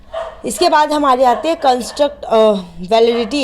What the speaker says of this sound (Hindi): ये जो कुत्ते भौंक रहे हैं इसकी वजह से थोड़ा इशू आ रहा है वीडियो में